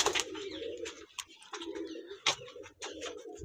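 Several pigeons kept as a hobby at home coo in low, rolling repeated phrases, close and fairly loud, with occasional wing flutters or sharp clatters between calls and no talking.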